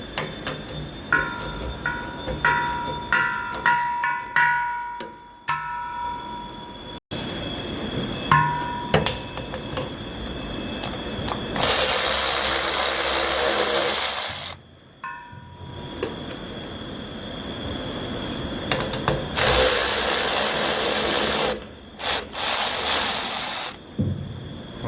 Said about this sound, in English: We're going to crack them first with the ratchet, then put the battery ratchet on it.